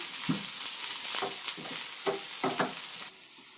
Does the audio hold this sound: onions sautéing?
yes